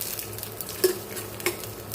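Chana dal, peanuts and coriander seeds fry in hot oil, making a quiet, steady sizzle with two soft clinks of a utensil against the pan.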